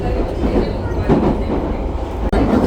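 A train rumbles along close by, its wheels clattering in a loud, continuous roar from inside the moving carriage.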